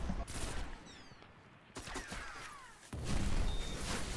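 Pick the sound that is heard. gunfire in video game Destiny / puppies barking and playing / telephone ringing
gunfire in video game Destiny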